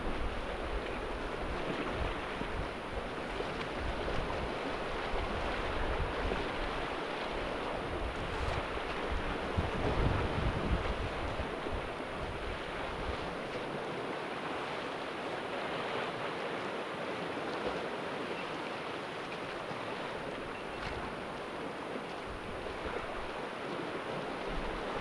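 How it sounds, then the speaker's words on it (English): Wind gusting steadily around a coastal headland during winter shore lure fishing, a constant broad roar with heavy low rumble and buffeting on the microphone, mixed with surf washing close by; no one speaks. "it's coming around this headland, so I'm getting a big crosswind as well"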